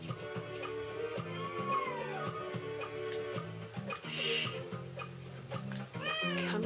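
Kittens meow repeatedly in the video game Dog's Life, several rising and falling mews over a looping background melody, close and clear.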